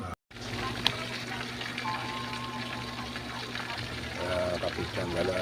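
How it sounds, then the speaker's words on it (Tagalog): Breaded chicken seasoned with pepper fries in hot oil, giving a steady, close crackling sizzle that runs throughout while someone talks over it. "Sa ngayon ay nag-prito ako ng manok."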